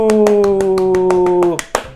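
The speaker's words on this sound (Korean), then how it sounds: "박수!" Evenly spaced handclaps ring out for a child winner during a children's church service, about a dozen crisp claps under a drawn-out sustained voice before the rhythm loosens at the end.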